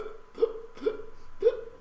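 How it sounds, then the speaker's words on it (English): A woman hiccuping three times at an even pace, each hiccup a sharp, close, voiced gulp against quiet background. "That's a fat little bitch with hiccups."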